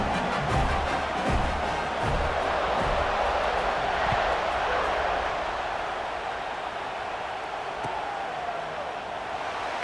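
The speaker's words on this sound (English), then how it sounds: "this crowd is buzzing after that last score" A stadium crowd in EA Sports College Football 26 buzzes loudly after a score and an extra point, a dense, continuous roar that holds steady through the whole stretch with no voices standing out.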